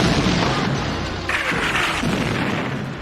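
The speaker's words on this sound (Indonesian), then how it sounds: "terlihat pasukan tank baja yang datang mendekat ke situ, sambil nggak berhenti ngebombardir perkampungan tersebut" Tanks bombarding a village in a film battle scene: a dense, continuous wash of booming blasts and rumbling explosions, loud and close, with a sharper burst about a third of the way through.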